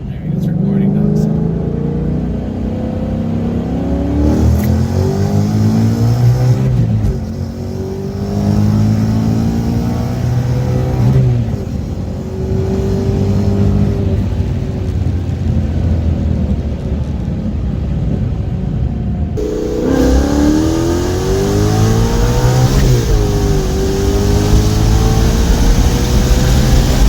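A Vortech-supercharged 2019 Ford Mustang GT accelerates hard from 60 to 130, its loud engine climbing in pitch through gear after gear with brief dips at each shift, roaring close and continuous throughout.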